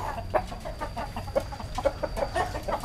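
A Bangkok rooster clucks close by in a home animal pen, a run of short, uneven clucks spread over a few seconds with low background noise and no talk.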